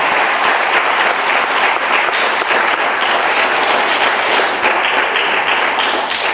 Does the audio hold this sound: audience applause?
yes